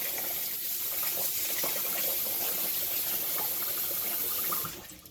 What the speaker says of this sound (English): And then you want to fill it up with water.